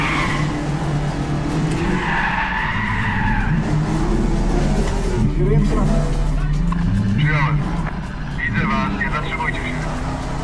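A car drives and skids through city streets in the video game Warfighter, engine droning with squealing tire slides and a skid sweep near the middle, while someone talks over the game sound throughout.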